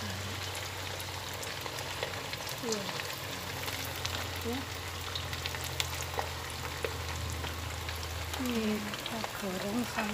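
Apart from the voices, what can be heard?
frying dough in a pan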